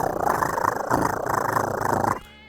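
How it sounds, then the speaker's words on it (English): A loud, close, continuous cat purr from the video game FATE: Undiscovered Realms, with a rough rhythmic rumble, cutting off abruptly near the end. "I love the really loud purring sound,"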